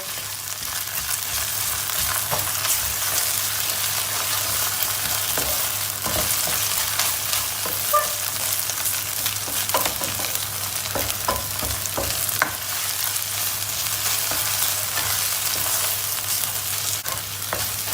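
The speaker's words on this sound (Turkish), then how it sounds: "Domates salçasını da bir yakacağız içinde." A spoonful of tomato paste frying in a pot with lentil soup in the making, a steady loud sizzle running throughout, broken by repeated scrapes and clicks of stirring, with no talk.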